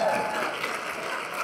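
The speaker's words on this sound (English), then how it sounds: "Give a big round of applause to Mr. Freeman" A concert audience at a school pops concert gives a dense, steady round of applause, loud and continuous for a brief moment.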